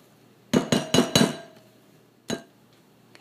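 A spatula scoops Cool Whip out of its tub into a mixing bowl, heard as four quick close knocks and clinks against the bowl, then a single later tap after a short pause.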